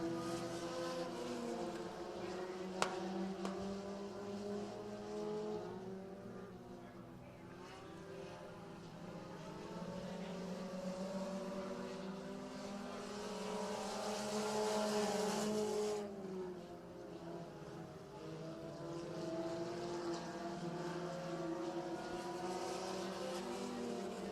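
A pack of race cars circles an oval racetrack during a regular race program, a continuous layered engine roar that swells and fades as the field passes through the turns, heard from a distance with no voices.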